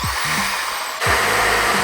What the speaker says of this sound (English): I got a drill.